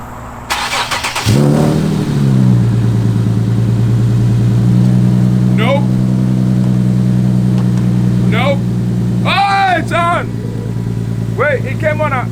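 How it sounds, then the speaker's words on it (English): A 2015 Nissan 370Z Nismo engine cranks and fires up close by, settling into a steady idle with brief revs, while people talk nearby. "So now he's gonna start the car and we're gonna see."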